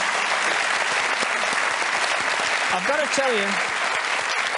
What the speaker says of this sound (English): it's the applause that ruins the trick.